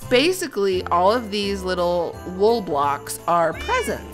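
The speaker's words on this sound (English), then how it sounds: "Oh yeah, that's my cat." A cat in the Minecraft video game meows several times in short rising cries, heard under and between a person's steady talking.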